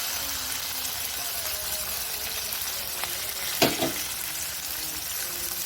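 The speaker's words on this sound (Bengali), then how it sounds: "চিংড়ি মাছটা ভেজে নেব।" Shrimp frying in hot oil, being cooked for a lati (taro stolon) dish, give a steady close-up sizzle that fills the clip, with a brief louder crackle and stir burst midway.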